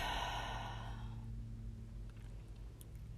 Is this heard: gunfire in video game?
no